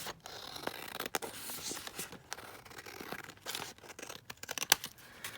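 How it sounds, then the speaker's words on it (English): Scissors trimming paper for a junk journal project, with close, quiet rustling and crisp snipping, irregular cuts and paper handling noises scattered throughout. "we'll just trim that down here on the side"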